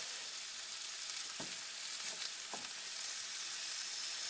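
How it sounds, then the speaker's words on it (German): A skin-on piece of meat sears in a hot frying pan, giving a steady broadband sizzle throughout with a couple of brief scraping stirs, close and fairly quiet. "Jetzt wird es erstmal kurz ein bisschen von jeder Seite, ja, muss schon ein bisschen angebraten werden."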